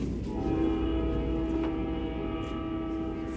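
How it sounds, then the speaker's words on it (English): A freight train rumbles past steadily and loudly, its low drone filling the moment while a long sustained horn tone holds over it, with no talk. "Freight train"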